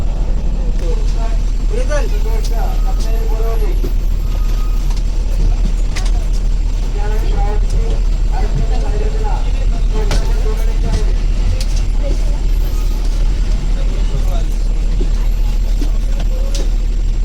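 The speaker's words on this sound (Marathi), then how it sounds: "मग आता संगमेश्वरवर तर गाडी निघाली आहे" An MSRTC Lalpari bus pulls out of a small depot and onto the road, its engine giving a constant low rumble for the whole stretch under ongoing talk.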